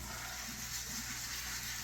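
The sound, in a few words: water sprayer rinsing ball python enclosure foliage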